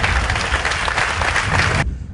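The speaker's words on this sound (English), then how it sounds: "And I think that deserves an applause." An audience at an educational center ceremony applauds loudly for about two seconds, a dense, continuous clapping from a crowd that cuts off abruptly near the end.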